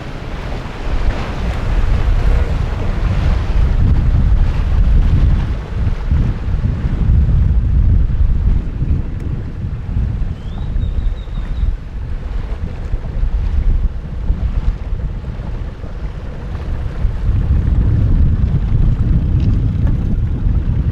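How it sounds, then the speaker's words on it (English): A small dinghy motors over open water in strong wind, with a loud continuous low roar of engine, hull slap and gusting wind buffeting the microphone throughout, no talking. "Try to take pictures and drive a dinghy."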